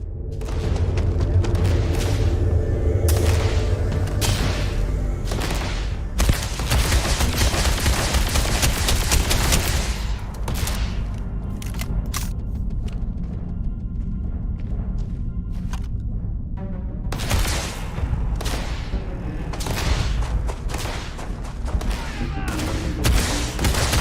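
Rapid gunfire bursts in the space game Starfield, loud and near over a thick low game rumble, with denser volleys at the start and around the 17-second mark and quieter stretches between.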